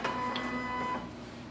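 A Canon imageCLASS MF455dw printer scanning, a steady mechanical whir and hum for about a second before settling into a quieter, lingering drone; no one speaks.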